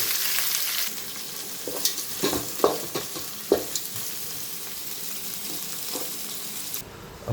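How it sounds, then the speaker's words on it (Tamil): Sliced onions fry in a pan with a steady close sizzle, broken by several sharp scraping clicks and knocks of a spoon stirring against the metal, with no voices. "3 வெங்காயத்தை போட்டுக்கோங்க. கொஞ்சம் இது வதங்கணும்."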